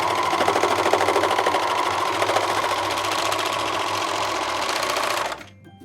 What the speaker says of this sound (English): and then we're just gonna serge right off.